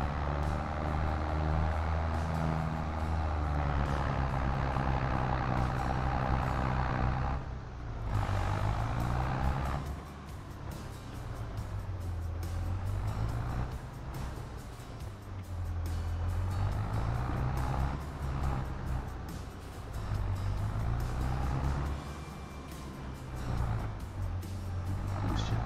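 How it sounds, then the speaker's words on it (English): A big tractor in Farming Simulator 2022, an old Fiat in need of work, drones steadily as it pulls a plow through weedy ground. The engine holds a loud, low hum with small shifts in pitch, briefly easing around the middle. "This is an amazing plow as well"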